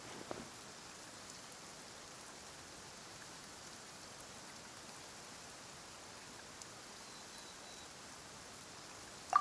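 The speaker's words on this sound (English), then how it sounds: "Why is it raining all of a sudden?" Light rain falls in the Genshin Impact video game as a soft, steady hiss of drops. It stays even and fairly quiet throughout, with only a couple of faint ticks.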